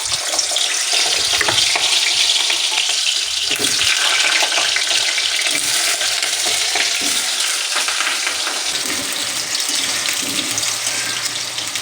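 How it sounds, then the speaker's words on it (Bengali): Potatoes frying in hot oil in a wok in a village kitchen, a dense, steady sizzle that fills the whole stretch, loud and close, with faint stirring and watery crackle underneath and no talk. "কড়াইটা গরম হয়ে গেল, এখানে তেল দিয়ে দেবো আলু ভাজার জন্য।"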